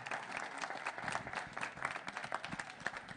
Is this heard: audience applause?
yes